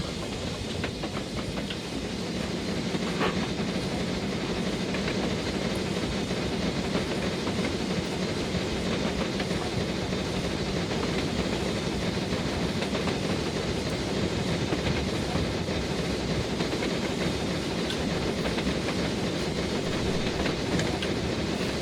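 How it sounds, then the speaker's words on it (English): A K1 steam locomotive hauling passenger and mail stock on Scottish western lines in Train Simulator 2018, giving a steady, continuous rumble with faint hiss and rail clatter that runs unbroken and fairly loud throughout. "These are Moggy's favourite trains because they don't have wipers."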